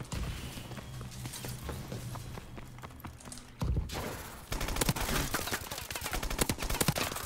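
Rapid gunfire bursts from Call of Duty: Advanced Warfare, dense and close, intensifying in the second half with sharp repeated shots; quieter scattered firing and low rumble before a brief loud impact near the middle.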